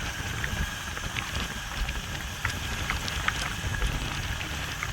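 Heavy rain pours onto a six-lane road under construction leading into a cricket stadium in Amaravati, making a steady, dense hiss with scattered close drop splashes and no voices.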